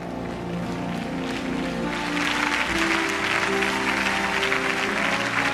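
A church congregation claps and applauds in praise of Jesus, a dense, continuous roar of many hands filling the space and swelling slightly louder partway through, with musical tones underneath.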